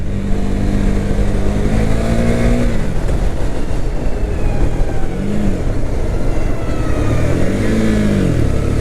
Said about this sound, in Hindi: और मैं इंजन ब्रेकिंग ही यूज़ कर रहा हूँ आज।